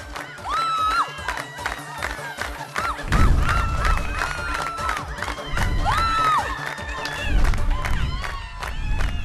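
A crowd hoots and jeers in loud, rising and falling whoops, many voices overlapping in bursts with shouting mixed in.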